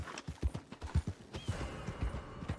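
Hooves from a horse in a video game thud in a quick, regular galloping rhythm, close and fairly loud, with no talking over them.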